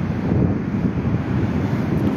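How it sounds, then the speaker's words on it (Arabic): Strong sea waves and gusting wind at Ain Diab beach in Casablanca during stormy, rainy weather make a loud, continuous roar with heavy wind buffeting on the microphone. "أمواج قوية"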